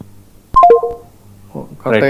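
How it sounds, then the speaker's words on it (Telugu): A quick run of three descending electronic beeps, like a call dropping, followed by a voice starting to talk. "ఫోన్ లైన్ కట్ అయినట్టుంది"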